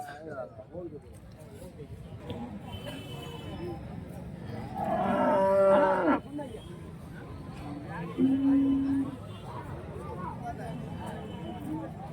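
Cattle at an Andhra Pradesh cow market low for sale, pregnant and milking cows among them; two distinct moos, a long loud one and a shorter one later, stand out over steady market crowd babble and nearby talk.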